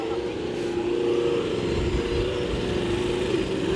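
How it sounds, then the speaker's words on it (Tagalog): Traffic passing at night during an RC car gathering, a loud, steady rumble of engines close by with a constant tonal drone and no pauses. "Traffic."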